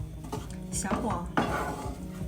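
Ham, mushrooms and tomato sauce for pasta are stir-fried over low heat, with a spatula scraping and clattering against the pan over a soft sizzle.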